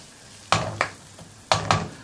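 Onions fry in a pan for a vindaloo, a steady sizzle broken by two pairs of sharp scraping stirs against the pan, close up with no voices.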